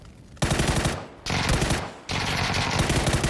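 Loud, close bursts of rapid automatic machine gun fire in PUBG, three sustained volleys separated by brief pauses, with no talk over them.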